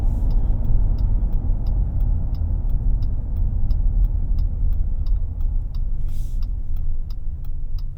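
A 2023 Jeep Wagoneer Series II 4x4 accelerates from inside the cabin, with a steady, loud low engine rumble and road noise holding throughout and a faint regular ticking above it.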